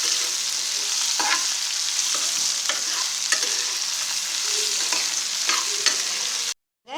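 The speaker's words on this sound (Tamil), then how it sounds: "நல்லா அப்படி வதக்கிக்கோங்க." Carrots sauté in hot oil, giving a dense, continuous sizzle with repeated stirring scrapes across the pan, loud and close, ending with a sudden cutoff.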